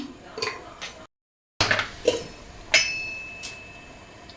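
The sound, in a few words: stirring chicken with masala in a pot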